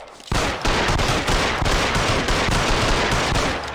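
Rapid sustained gunfire in the video game L.A. Noire, dense overlapping shots in quick bursts, loud and close, continuing for several seconds without talk.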